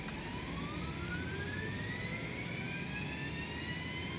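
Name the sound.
Citation X jet engine number 1 starting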